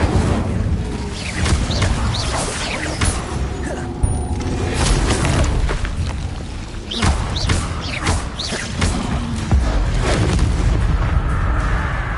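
An Incendio fire spell erupts in the video game Hogwarts Legacy, with loud booming blasts and thuds over dense, continuous in-game noise and clatter.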